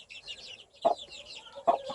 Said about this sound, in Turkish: Bu bizim güçlü horozumuz. Tavuğu ve civcivleri.